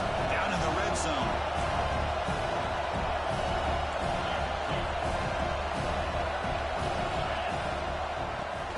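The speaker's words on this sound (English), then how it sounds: "And the crowd coming to life here, trying to help this defense down in the red zone." A college football stadium crowd roars steadily throughout as the defense holds in the red zone, forming a dense, unbroken wall of cheering noise.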